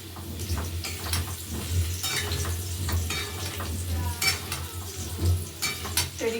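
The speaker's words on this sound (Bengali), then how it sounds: "আর এদিকে আলুটা ভাজা হচ্ছে" Potatoes fry in a pan on a home kitchen stove, giving a steady, dense sizzle throughout, with scattered clicks and scrapes of stirring and utensils and no talking.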